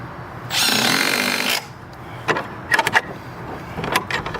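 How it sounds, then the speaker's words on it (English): A power drill whirs in one burst of about a second, drilling into a door frame for a strike plate, followed by scattered clicks and clatter of handling nearby. "I didn't drill it deep enough. Ha! I gotta re-drill a little bit deeper."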